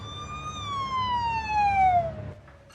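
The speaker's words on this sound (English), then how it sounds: "It starts off simply enough, where you have a police siren and traffic outside." Police siren outside a diner in a Mulholland Drive film scene, a single falling wail with bright harmonics over low traffic rumble, fading out after a couple of seconds.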